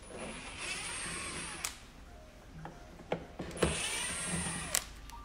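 Power screwdriver backing out T20 Torx screws from the headlight modules of a 2015 Audi A4, heard as a few short whirring bursts separated by light clicks and handling noises, close by with no talk.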